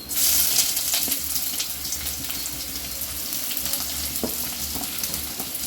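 Onions added to hot oil with whole spices, stone flower, a piece of star anise and a bay leaf, for prawn and chicken thokku, giving a steady close sizzle with soft stirring clicks throughout, no voices.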